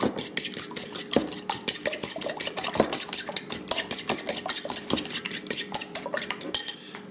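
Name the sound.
beating eggs with a spoon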